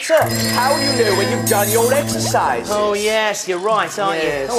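A telephone rings in a bright repeating electronic trill on a children's TV show set, with lively voices talking over and around it.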